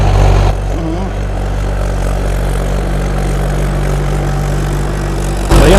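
A tractor engine runs steadily while ploughing a field, a loud, constant low drone heard up close, with faint voices briefly under it.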